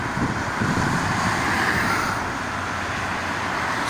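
Night traffic on the Jakarta-Cikampek toll road, mostly private cars and night buses, a loud continuous roadway roar with wind buffeting the microphone and no speech.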